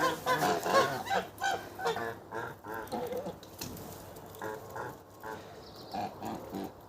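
Geese honking in repeated bursts at close range, with a pig-like grunting quality mixed in, as a small flock is herded out to graze in the evening on a farm; someone speaks briefly to them.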